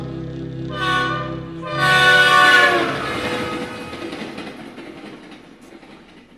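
A train horn blares in two long harmonic blasts, the second louder, followed by rumbling rail noise that slowly fades as the train passes, during a theatre stage performance.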